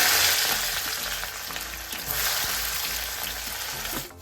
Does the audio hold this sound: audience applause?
no